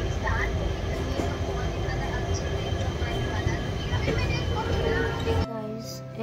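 A train pulls out of Lumding station with a steady, loud rumble and rattle heard from on board, then the noise drops off sharply near the end.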